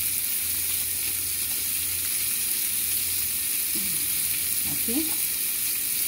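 Garlic and homemade salsa sizzle in a pan for pollo entomatado, a steady hissing fry running throughout with faint scraping, and someone speaks briefly.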